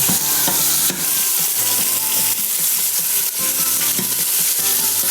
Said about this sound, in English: we can go ahead and take this meat out and start searing off the rest